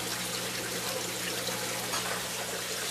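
Water trickling steadily into the drain of a fodder system tray, a constant close hiss of running water with a low hum underneath.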